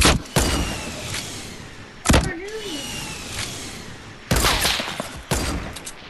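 Fortnite gunfire, with rockets and sniper shots, comes as several sharp, loud bursts separated by pauses, each blast followed by a decaying rumble, with a brief voice between two of them.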